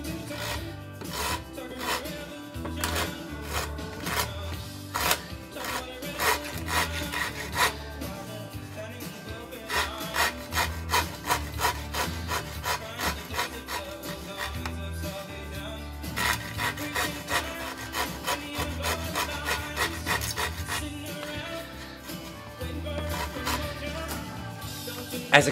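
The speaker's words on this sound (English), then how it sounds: "As expected, the rasp is leaving a pretty nasty, rough surface" A hand rasp shapes the wooden blade of a Greenland paddle in steady back-and-forth strokes, a rough, dense scraping that repeats in rhythmic bursts close to the listener with no talk.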